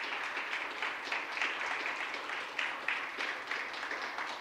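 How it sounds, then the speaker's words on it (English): A church congregation claps together in steady, moderate applause that holds evenly from start to finish with no voices over it. "One more hand clap for the kids,"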